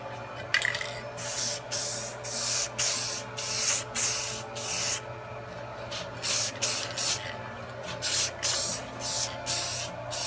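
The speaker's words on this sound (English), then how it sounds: "Okay, so I'll just apply a couple light coats of clear." Aerosol clear coat sprayed in light coats over paint, a series of close, loud hissing bursts, some long and some short, separated by brief pauses.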